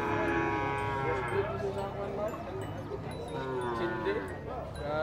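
Cattle low repeatedly at a livestock market for cattle and carabao in Bacong, drawn-out moos close by, with people talking throughout.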